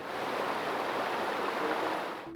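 Mountain stream water fed from the páramos rushes in a steady, close broadband hiss, continuous and even throughout before cutting off at the end, with no voices.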